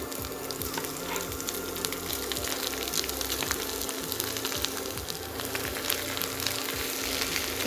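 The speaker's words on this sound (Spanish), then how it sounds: "Y lo vamos a rehogar." Mushrooms, sauerkraut and onion sauté in a pan for Polish pierogi filling, giving a steady close sizzle with occasional stirring scrapes throughout, no talking.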